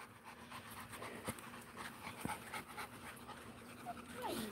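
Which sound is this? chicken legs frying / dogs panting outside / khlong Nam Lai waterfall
dogs panting outside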